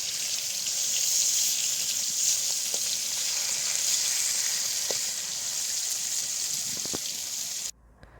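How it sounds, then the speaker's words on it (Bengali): Rui fish fillet frying in a pan over low heat, a steady close hiss of oil sizzling throughout with a few faint clinks, cutting off abruptly near the end. "আমার মাছ ভাজাটা এক পিঠ হয়ে গেছে এবং হচ্ছে অন্য পিঠে দিয়েছি"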